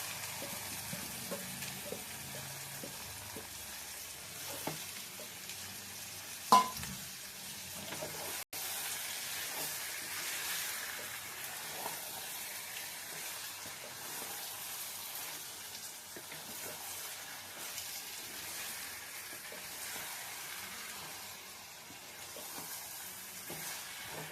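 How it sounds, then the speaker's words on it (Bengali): Chicken marinated in turmeric and yogurt is frying in a pan, giving a steady soft sizzle with occasional stirring clinks and one sharp knock, at a low level throughout. "এবার দিয়ে দিলাম চিকেন, হলুদ আর দই মাখানো চিকেন, এটা এর সঙ্গে কষবো।"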